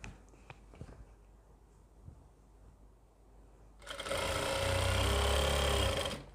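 A sewing machine stitches a palazzo skirt seam, bursting into a loud, steady whirring run after several seconds of faint handling and light taps.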